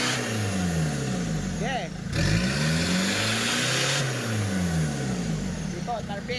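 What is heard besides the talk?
Isuzu Trooper engine revving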